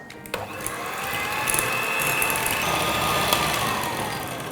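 An electric mixer runs steadily, mixing chocolate crinkle cookie ingredients in a bowl, with a continuous whirring hum that stays loud and even for the whole stretch after a brief clatter at the start.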